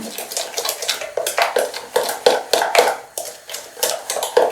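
Rhythmic scraping and clinking of a utensil against a bowl, repeated steady strokes mixing rye and wheat flour for bread close by, with no talking.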